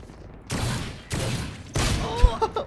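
Gunshots ring out in a video game as three separate bursts of sharp, loud reports, each trailing off briefly, the last one followed by a few quicker cracks.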